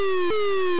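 Fast downward pitch slide from HoustonTracker calculator music: a harsh, buzzy square-wave tone dropping in repeated quick sweeps, loud and alone with no talking.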